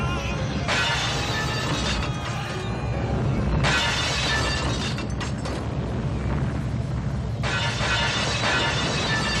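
Crashing, shattering bursts of breaking glass used as a film sound effect recur three times, loud and broadband, with near-identical repeats and a dense rumbling bed between them.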